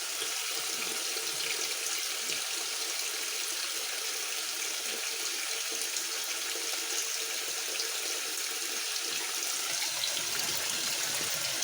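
A GE washing machine fills with water during a cold, tepid rinse while loaded with thirteen full-size bath towels, giving a steady, continuous hiss of rushing water with no pauses.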